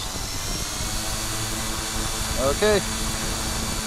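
3DR IRIS+ quadcopter drone spinning up for takeoff, a steady buzzing motor and propeller whine with a brief rising pitch sweep near the end, a voice speaking briefly over it.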